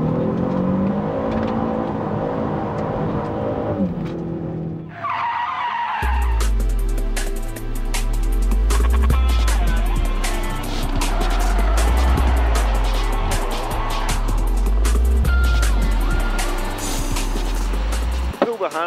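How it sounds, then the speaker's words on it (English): A car drifts on the handbrake with the rear wheels locked, its engine revving hard and tyres squealing loudly and continuously round a corner, after a quieter opening stretch. "Pull the handbrake on, get the car into a drift, and then hold it on the throttle."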